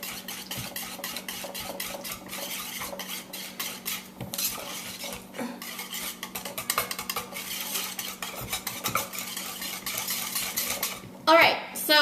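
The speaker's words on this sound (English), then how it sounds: "a whisk, and I'm going to whisk it on up. And this will get all like the lumps out of the yogurt" Yogurt being whisked in a bowl to break up lumps makes a fast, continuous metallic clatter and scrape. The rhythm stays fairly even for several seconds before a louder clunk at the end, with no talking.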